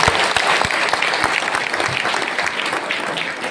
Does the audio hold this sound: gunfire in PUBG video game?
no